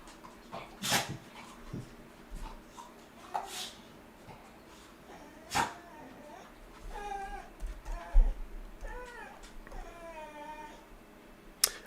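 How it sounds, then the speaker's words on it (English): A dog whines and yelps in short, rising cries wanting to be let outside, several sharp calls spread across the clip, moderately close, with a person speaking briefly and indoor background noise. "I think my dog needs to go out."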